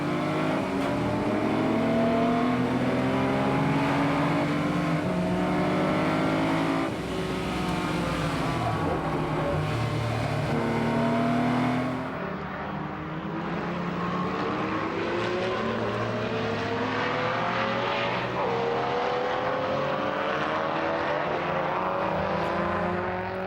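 Historic pre-1966 competition cars race past during the Tour Auto, their loud engines roaring and revving continuously, one car's note giving way to another as they pass close by.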